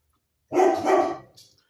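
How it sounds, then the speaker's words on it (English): A single drawn-out dog bark, close and fairly loud, trailing off with a faint short yip. "Every little noise he hears, he thinks he's got to bark."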